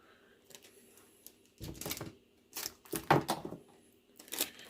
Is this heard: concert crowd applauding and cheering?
no